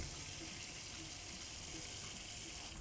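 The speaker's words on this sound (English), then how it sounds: "Put the tin into a sink with some boiling water or some hot water out of your tap." A steady rush of water pouring from a tap into a sink, constant and fairly close, with no other sounds.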